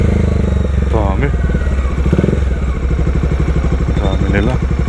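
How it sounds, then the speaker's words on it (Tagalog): Bajaj Dominar motorcycles run steadily at a night riders' meetup in Pampanga, a continuous mid-pitched engine rumble with brief revving swells, heard close and under talk from people nearby. "Dami nila. Ang ganda ng mga motor nila,"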